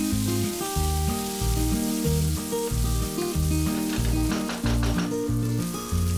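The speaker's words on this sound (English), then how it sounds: "Then add 1 cup green peas and fry it for about 2 to 3 minutes." Green peas frying in a pan for a beef mince curry, with a steady close sizzle under loud background music.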